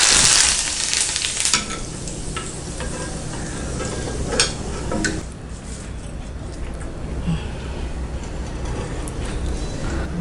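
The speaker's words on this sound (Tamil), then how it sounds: "இதுக்கு வந்து வாசத்துக்கு வந்து நம்ம கருவேப்பிலையை எண்ணெயில் போட்டு எடுத்துக்கலாம்." Curry leaves fry in hot oil for onion pakoda, a steady crackling sizzle with a burst of sharper popping at the start and occasional stirring or scraping sounds.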